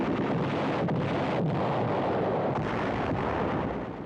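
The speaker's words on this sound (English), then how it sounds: "Tanks blast Jap positions in the hills outside the city." Tanks fire on enemy positions dug into hillside tombs outside a city in WWII newsreel footage, giving a dense, continuous roar of heavy gunfire and blasts. Wind-like rumble fills the whole stretch with little break.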